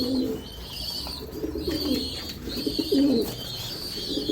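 Healthy pigeons in a home loft coo in a steady series of close, rolling calls during winter, several distinct coos recurring in rhythm with little else around them.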